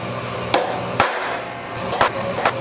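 Hammer blows on a metal punch marking a thin aluminum plate for a 12 mm handlebar GPS mount on a Ténéré 700, four sharp separate strikes at uneven intervals against quiet workshop background.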